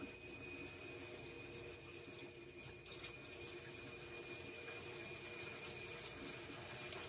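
Water running from a kitchen sink tap as a continuous, even rush with no breaks, fairly faint and steady throughout.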